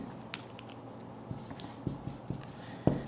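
Chalk or pen scratching out chemistry equations during a nitric acid lesson, a series of short, separate strokes and taps at moderate volume with quiet pauses between, no talking.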